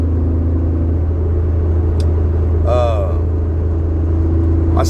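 Steady low hum of a car engine and road rumble from inside a moving car, constant and close, with brief speech from a man over the drone.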